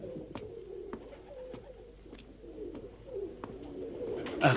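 A male homing pigeon coos softly and repeatedly in a story sound effect, with low rolling coos and small clicks at a fairly even rhythm, heard close and quiet with no voices.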